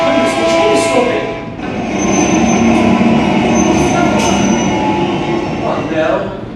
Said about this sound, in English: the train is stopping